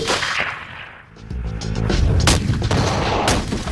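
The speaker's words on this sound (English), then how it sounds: "The military wonder weapon that can reach out and touch someone, the 416 is ideal for the longest of long-range shots." 416 long-range military rifle firing: a loud, close boom that swells into a heavy, rolling rumble and sustained reverberant blast noise, with a sharp crack near the end.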